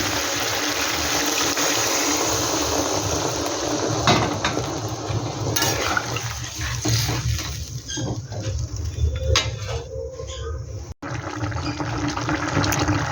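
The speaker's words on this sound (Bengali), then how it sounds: "এবার আমি একটু জল দিয়ে দেবো সামান্য।" Water is poured into a hot pan of chili chicken, making a loud, steady rushing hiss with patter and bubbling that runs almost unbroken, close by.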